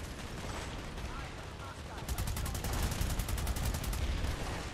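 Rapid bursts of automatic gunfire in the PS4 shooter Planetside 2, a dense continuous rattle that grows louder and more rhythmic partway through, with faint talk mixed in.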